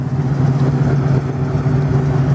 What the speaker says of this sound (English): Rev the engine up a little bit for us so we can hear the engine.